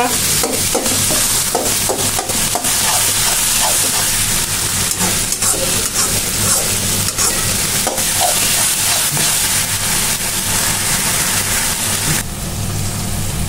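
Taro leaves (kochu shak) dry stir-fried in a pan give a loud, steady sizzle and hiss, with the scrape of stirring running all the way through and easing only slightly near the end.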